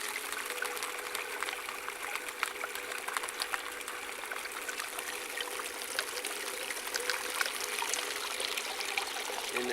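Water runs steadily through a gold prospecting sluice with a pump, a continuous close splashing trickle with small gurgles and no pauses.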